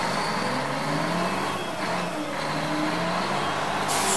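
A cartoon garbage truck drives along, its engine a steady, moderately loud rumble throughout with a brief hiss near the end, and no voices over it.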